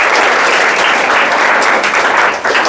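Students clap together at a school prize-giving for a grammar test, a dense, steady round of applause filling the room for a few seconds and dipping briefly near the end.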